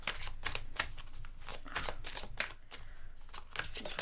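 A deck of oracle cards being shuffled by hand, a quiet close-up run of rapid riffling flutters and slaps repeating in short bursts.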